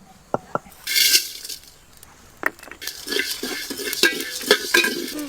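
Cumin, coriander, fennel and whole spices dry-roasting in a pot for mutton, heard as a few sharp metallic taps, then rattling, crackling stirs that grow busier toward the end.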